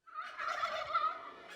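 Merriam's turkeys gobble in one rolling, rapid call that swells and fades, with several birds blending into a loud, nearby chorus that lasts about a second and a half, with no voices over it.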